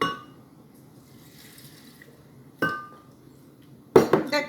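A cup of water is poured into a sauce mixture of seedless chilies for drowned tortas in a kitchen, with a brief splash and sharp clinks of a cup against a container amid quiet background.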